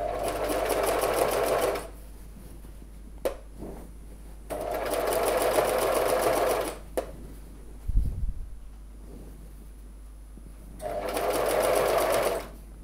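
A sewing machine stitches a jeans zipper fly in three steady runs of a few seconds each, separated by pauses with small handling clicks and a brief thump.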